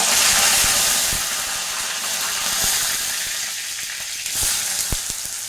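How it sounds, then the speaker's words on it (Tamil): Fennel seeds and curry leaves frying in hot oil, a loud close sizzle that crackles steadily throughout with a few sharp pops. "எண்ணெய் நல்லா காயுது. 2 சோம்பு போட்டுக்கோங்க. கருவேப்பிலை 2 போட்டுக்கோங்க."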